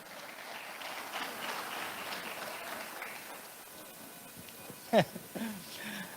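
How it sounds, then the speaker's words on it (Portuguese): A church congregation applauds a child, giving a steady patter of clapping for about four seconds before it fades and a voice speaks briefly near the end. "Uma salva de palmas para o irmãozinho, por gentileza."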